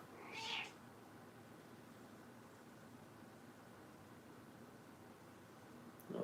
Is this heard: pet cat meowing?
yes